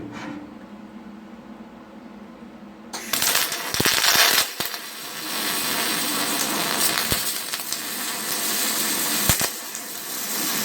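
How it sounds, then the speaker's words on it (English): Steel plate being arc welded during an electric conversion of a BMW E39, a steady loud crackling hiss that starts abruptly after a quiet opening and runs continuously with a few sharp pops. "we're making some nice welds now"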